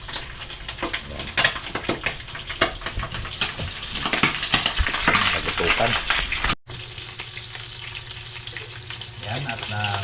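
Pork for sisig frying and sizzling in a pan, a steady loud crackle with clattering utensil stirs and brief talk over it, then a softer, lower sizzle after a sudden cut.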